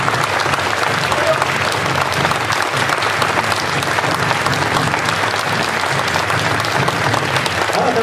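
Sustained, dense applause from an audience at a press conference for a new Onihei Hankacho production, steady and loud for the full stretch with no pauses.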